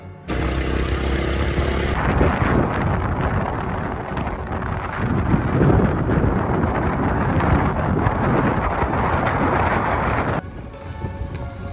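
Cool wind rushes through a forest, a loud, continuous roar buffeting the microphone for most of the stretch before dropping off near the end.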